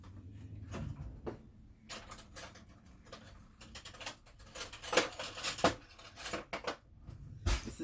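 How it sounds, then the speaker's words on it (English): Silverware and dishes being handled in a kitchen, with scattered metallic clinks and clatters in irregular bursts, some close and sharp, some quieter, with no talking. "I'm stepping out of frame because my silverware is over to the left."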